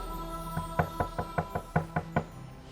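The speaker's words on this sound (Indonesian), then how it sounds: "Ada suara ketukan pintu juga." A door is knocked about nine times in a quick, uneven series of sharp, fairly close raps, heard on its own with no voices, as a sound effect in a ghost story.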